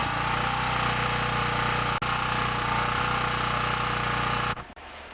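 A portable generator's small engine runs steadily at a warm-up restart, with a loud, even mechanical drone that cuts off abruptly near the end as it shuts down.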